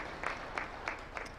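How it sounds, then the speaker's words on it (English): A few scattered, faint claps at an award ceremony for the Huduma Ombudsman, sounding as isolated hand claps in a quiet hall rather than full applause. "Let's give Kenya an applause for that."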